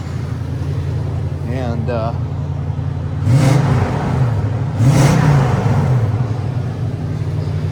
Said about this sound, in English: nice clean rumble to it once you hit the throttle